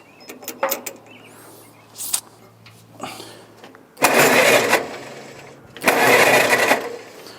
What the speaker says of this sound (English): start the tractor up so we can get this out of the way